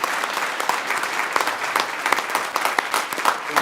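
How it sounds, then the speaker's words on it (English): Audience applause fills the grand opening of the Lynnwood Neighborhood Center, with steady dense clapping from a sizable crowd throughout and no voices over it. "maybe clap for that"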